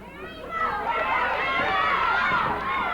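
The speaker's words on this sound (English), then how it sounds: "Crowd partisan for Lawler, obviously. Trying to cheer him on and get him going" A partisan crowd at a 1982 Memphis televised wrestling match cheers with a dense roar of many voices, loud and sustained for about three seconds, with shrill individual shouts rising above it.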